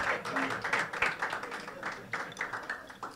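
Audience applause at a live comedy monologue show, steady close clapping from many hands that swells and dips over a few seconds, with scattered voices mixed in.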